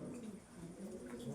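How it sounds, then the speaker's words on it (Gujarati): Pigeons coo softly in a low, murmuring run near the Jambuvan cave at Ranavav, the quiet calls overlapping steadily with no speech. "જો કબૂતર"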